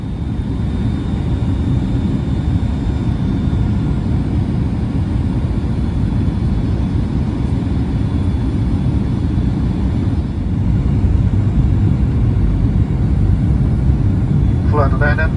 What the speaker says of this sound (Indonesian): pesawat mulai menuruni ketinggian untuk mendarat di Palembang